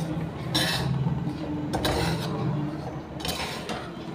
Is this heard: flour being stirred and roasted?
yes